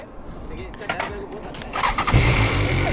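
A BMW S1000 motorcycle engine cranks and starts on a group ride, catching partway through and settling into a loud, rough idle close by, with talk alongside.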